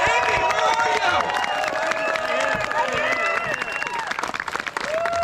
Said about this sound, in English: So let's give a really, really loud round of applause.